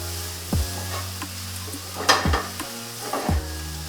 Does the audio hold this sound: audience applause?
no